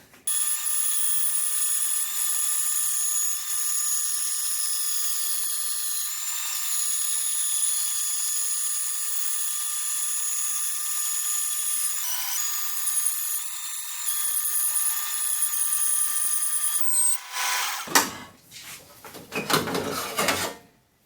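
A bandsaw cuts through 75mm exhaust pipe, a steady high-pitched metallic whine running close and loud for about seventeen seconds before breaking into rough clanking and handling noise as the cut finishes.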